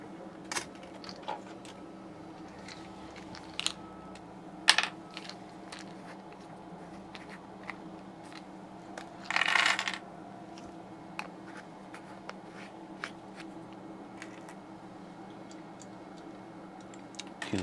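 Screwdrivers clink and tick as they are sorted through in a box while reassembling a Hampton Bay ceiling fan, sparse light metallic taps and one brief rattling burst, heard close.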